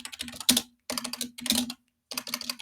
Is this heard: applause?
no